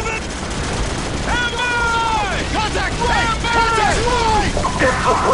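Dense, sustained gunfire rattles in Call of Duty 4: Modern Warfare as a loud continuous barrage, with shouting voices rising and falling over the shots.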